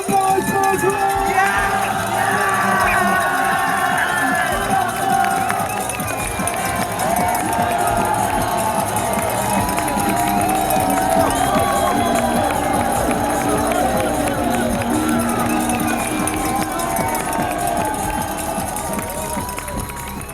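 A crowd cheers and roars steadily at an Enduro World Series mountain bike race in Wicklow, Ireland. The dense, sustained noise continues throughout, with a commentator talking over it.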